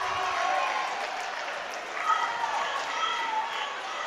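Crowd at a high school basketball game cheering after a buzzer-beater three-pointer, with steady applause and shouting spread through the gym under a commentator's voice.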